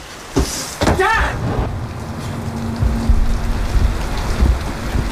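Rain falls steadily outdoors with a dense patter and a low rumble, opening with a few sharp knocks and thuds.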